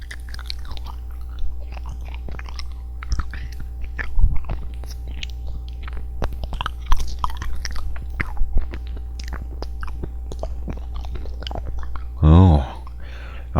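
A vitamin candy is eaten close to the microphone in an ASMR setting, with soft wet mouth clicks, sucking and occasional crunchy bites scattered across the clip, ending in a louder bite, over a low steady hum.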